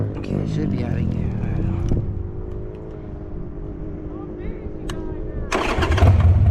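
Yamaha Banshee ATV engine cranking and catching, a rough mechanical rumble that fades and then surges louder near the end, with people talking over it.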